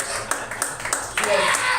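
Sparse, lackluster applause from a comedy club audience, a few scattered claps building briefly into a thin patter before fading, with voices murmuring underneath.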